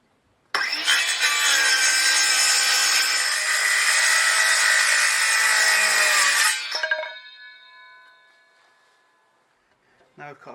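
A power saw cuts wooden strips for a honey super bee box, giving a loud steady whining buzz for about six seconds that then spins down with fading tonal rings, followed by quiet.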